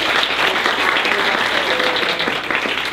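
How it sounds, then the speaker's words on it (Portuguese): Audience applause in a university lecture hall, loud and steady dense clapping from a crowd that carries on for the whole stretch without pause. "salva de palmas para ela que ela consegue ler"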